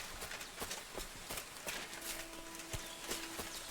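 Horse hooves clip-clop at a steady walking rhythm in Kingdom Come Deliverance II, a medieval open-world game, sounding close and moderately loud over a faint ambient background with no talking.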